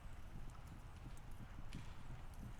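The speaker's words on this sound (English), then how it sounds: "There's the professional horse." A horse walks with steady hoof clip-clops, faint and somewhat distant, over a low, continuous background rumble.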